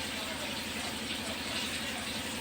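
Sesame oil is poured around the side of frying fish in a pan, giving a short, faint, continuous liquid pouring and sizzling hiss.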